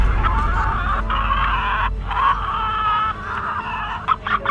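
Chickens clucking and squawking close by in a graveyard, a continuous busy chatter of fowl calls with brief gaps, fairly loud.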